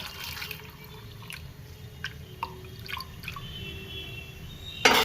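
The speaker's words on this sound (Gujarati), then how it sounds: "ચણાને એક પાણીએ ધોઈ નાખવાના." Soaked black chickpeas rinsed in water: soft drips and light splashes trickle on and off at close range, with a brief louder slosh at the end, no voices.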